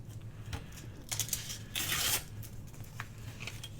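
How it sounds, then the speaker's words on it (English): A blade slices through small paper notepads along a ruler, with a few short soft tearing and scraping strokes and one longer rasp near the middle. The sounds are close and quiet. "Just use my ruler and give them a cut."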